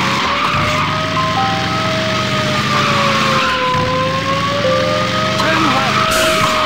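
In the arcade racing game Thrill Drive 2, a police car's wailing siren with slowly rising and falling pitch sounds over a steady engine drone, continuous and fairly loud.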